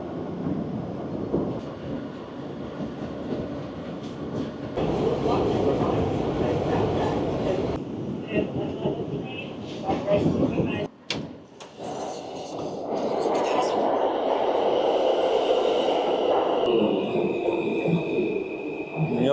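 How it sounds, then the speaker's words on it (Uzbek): A New York subway train rumbles and rattles along the track, loud and continuous, with clanks and a brief break, while a voice speaks at times. "Eng eski metrolardan biri ham Nyu-Yorkda metrosi."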